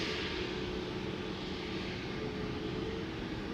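EasyJet Airbus A320neo jet at Schiphol Airport, bound for Edinburgh, with a steady broadband engine roar and a faint whining tone holding at constant level throughout, no voices.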